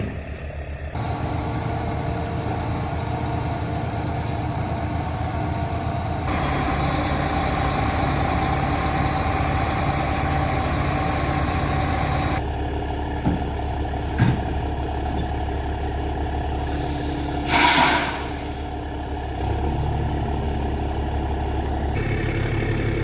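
A heavy truck engine, on a rig hauling a tractor trailer on a farm, idles steadily and close, a low continuous rumble with small shifts in tone and a brief louder surge partway through.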